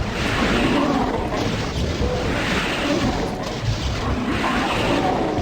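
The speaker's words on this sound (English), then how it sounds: "pull out our big gun. It's time to open fire. Mass BFG." In Doom II's MAP16 Suburbs, the BFG is fired and explosions follow: a dense, continuous roar of blasts and crashes with rumbling booms layered over each other, loud and unbroken, without speech.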